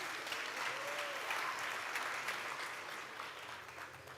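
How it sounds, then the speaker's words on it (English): Applause from a crowd at a graduation commencement ceremony for an MBA class, a dense steady clatter of many hands that stays at moderate distance and fades slightly toward the end. "Another round of applause for Divya and for our MBA full-time graduate"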